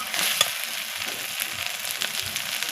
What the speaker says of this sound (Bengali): এগুলোকে আমি একসাথে একটু ভাজা ভাজা করে নেব